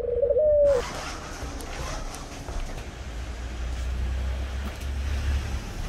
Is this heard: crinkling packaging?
no